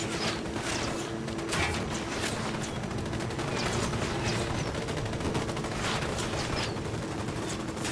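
Dense, sustained gunfire in the tactical shooter Ghost Recon Wildlands, with rapid overlapping shots and bursts that keep up loudly across the whole stretch, forming a continuous firefight without pause.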